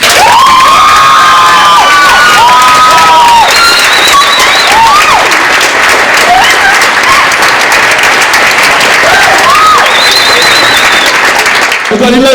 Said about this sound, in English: Please give a massive round of applause and be very welcoming to Elliot, please!